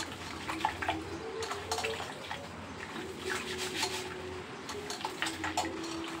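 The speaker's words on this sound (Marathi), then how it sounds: "अशा प्रकारे आपण हे धुवून घेऊया" Ingredients for idli and dosa rinsed under a running kitchen tap, with steady flowing water and light splashing and sloshing throughout.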